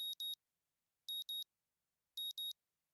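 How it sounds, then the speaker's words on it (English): A morning alarm from the visual novel Katawa Shoujo sounds in three evenly spaced bursts of two crisp electronic beeps each, high and clean against silence. "My morning alarm goes off"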